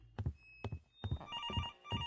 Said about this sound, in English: Would someone answer that bloody phone?